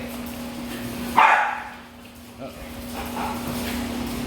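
Dogs that grew up together play and bark near a garage, with a sharp bark rising above a steady hum while people talk nearby.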